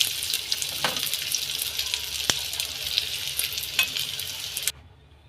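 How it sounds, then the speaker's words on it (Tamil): Fish pieces frying in hot oil in a pan: a steady, dense sizzle with a few sharp crackles and a stirring scrape, continuous and close, cutting off just before the end. "இதே மாதிரி எல்லா பீசஸும் ஃப்ரை பண்ணி எடுத்துக்கலாம்"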